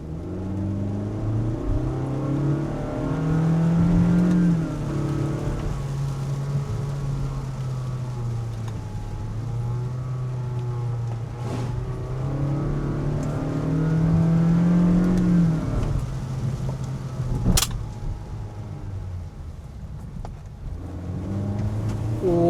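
A car engine runs through a throttle response test after adding octane booster, rising and falling through several sustained revs from inside or near the vehicle, loud and steady with a couple of brief clicks.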